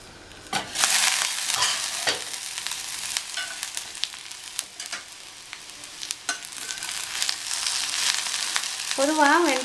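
Okra and peanut curry stirred in a pan over lowered heat, a steady close sizzle of frying broken by repeated scraping and clinking strokes of the spoon against the pan.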